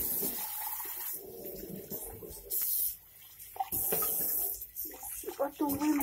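Coffee poured out into a sink, a splashing stream of liquid in several uneven bursts with short pauses, close and moderately loud, with someone speaking over parts of it.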